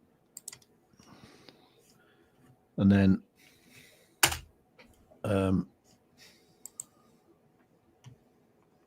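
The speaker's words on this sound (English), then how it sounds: "I'm just I'm clicking around on things." Computer mouse clicks tick sharply in short scattered bursts, close and crisp, between stretches of conversation.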